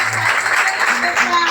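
Church congregation clapping and cheering at a prayer service, a dense continuous wash of applause throughout, with voices mixed in.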